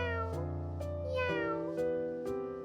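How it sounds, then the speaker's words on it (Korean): A baby kitten meows several times in a row, each cry drawn out and wavering, close and fairly soft against a quiet background. "아기 고양이의 울음소리 같은데?"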